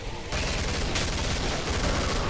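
Gunfire in the zombie shooter Killing Floor, heard as a dense burst of loud shots that begins after a brief quieter lead-in and continues steadily to the end.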